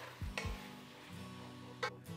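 Chopped paprika frying in a pot for goulash soup, a steady soft sizzle with a few stirring scrapes and clinks of the utensil against the pot, close up and without talk.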